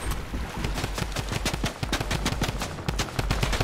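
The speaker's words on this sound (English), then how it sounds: "Oh, they're shooting behind me." Rapid gunfire rattles behind the player in a hide-and-seek video game, a dense run of close, loud shots in quick succession across the whole moment.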